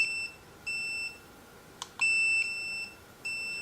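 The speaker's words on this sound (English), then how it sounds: "That is the tone on the collar as well." A wireless dog fence remote training collar sounds repeated high-pitched electronic beeps, each tone lasting roughly half a second with short gaps between them, and one brief click falls in the middle.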